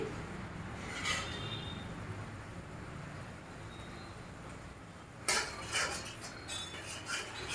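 Prawns and mixed vegetables with spices are stirred in a pan, a quiet bed of soft scraping with occasional metallic clinks of utensil against cookware, growing busier near the end; no one speaks.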